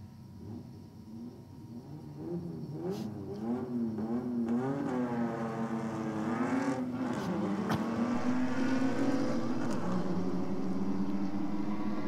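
A Holden ute launches in a night drag race, its engine roaring loud and continuous with pitch climbing through the revs, a steady rumbling drone underneath.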